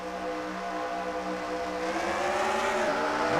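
Race cars accelerate at the start of the Daytona 120, their engines rising together in a loud, climbing whine that builds steadily, with no talk.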